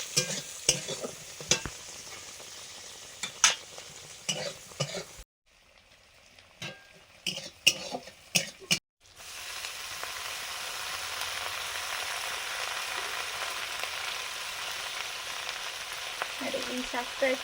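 Leafy greens tossed into a pan with onion and slit green chillies, frying and being stirred: clattering spoon strokes over a sizzle, a short near-silent pause, then a loud, continuous hiss of frying.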